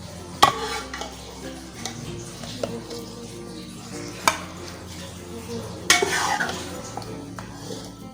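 Mixed vegetable curry is spooned from a pan into a serving dish, with a few sharp metal clinks and scrapes of a spoon against cookware over a low, steady kitchen background.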